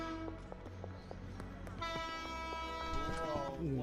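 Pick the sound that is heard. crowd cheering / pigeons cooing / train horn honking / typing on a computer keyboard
train horn honking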